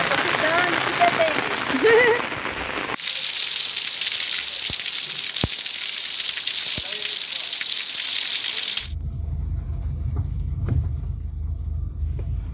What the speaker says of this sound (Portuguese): Terminou a cena lá da chuva que a gente mostrou para vocês.